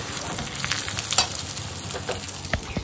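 Pulao stirred in a kadai over heat: a steady oily sizzle with soft scraping strokes of a spoon, close and fairly loud, with a few sharper clinks near the middle and end and no talk.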